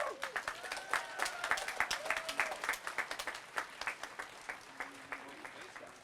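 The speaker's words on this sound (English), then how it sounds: "I want us to give her another round of applause." Applause for Mayor Woodard from an audience, scattered distinct claps in an uneven rhythm with a speaking voice running over them throughout.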